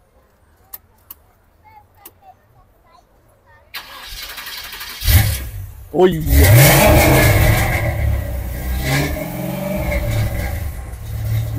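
Classic car engine at a vintage car show cranks and catches, then revs loudly and settles into a rough idle, close by, after a quiet stretch with brief exclamations and voices in the background.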